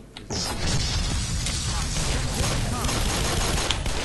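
Gunfire from a gun in the video game Black Mesa crackles in a loud, rapid, unbroken burst of shots lasting several seconds, dense and close.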